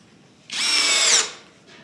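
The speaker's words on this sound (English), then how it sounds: "Let's try a drywall screw." A Seyvum PD-BL10 cordless drill whirs as it drives a drywall screw in one close, loud burst of under a second, then cuts out, followed by a brief faint spin.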